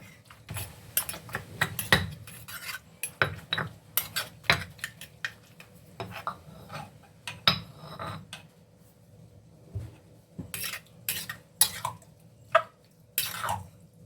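Eggplant soup with white mushrooms mixed in a small stone mortar used for pounding chili, close irregular taps, knocks and wet clacks of pestle on mortar with pauses between.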